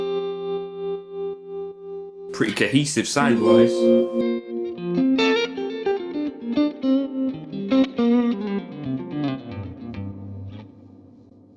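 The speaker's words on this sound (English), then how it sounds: "use 2 different tremolos, but with the same kind of speed setting, and you get that impact of having a wide tremolo thing" Electric guitar chords run through two tremolo effects set to a similar speed, making a wide, pulsing wobble that swells and dips rhythmically, with someone briefly talking over the playing.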